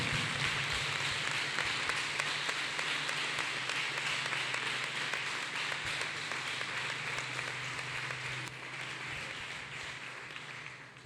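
Dense, steady clapping from a church congregation fills the space, a continuous patter of many hands that eases slightly toward the end.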